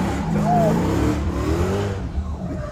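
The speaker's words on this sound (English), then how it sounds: "You don't have to film the whole burnout." A truck doing a burnout, its engine revving loudly and continuously with a rising, straining roar, while voices talk over it.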